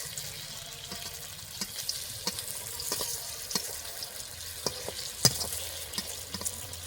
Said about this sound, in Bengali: এইবার এক এক করে রেসিপিগুলো গরম তেলে দিয়ে দেবো। হালকা তেলে রেসিপিটা ফ্রাই করে ভেজে নেব।